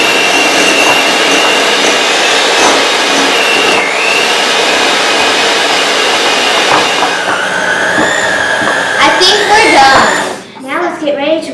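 An electric mixer beats cookie dough for firework cookies with a loud, steady whirring drone that runs almost the whole time and shifts pitch slightly near the end, while voices talk over it.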